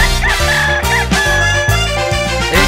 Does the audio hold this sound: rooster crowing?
yes